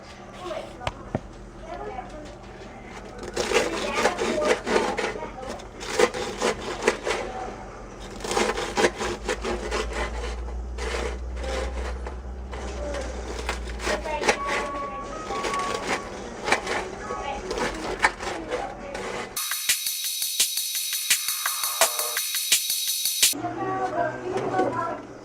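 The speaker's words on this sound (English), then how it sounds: "at this point I just cut up my bread into squares" A knife cuts through a pan of homemade cornbread for Southern dressing, making soft crumbly scraping and tapping strokes against the pan, close and steady, with a louder metallic rasp near the end.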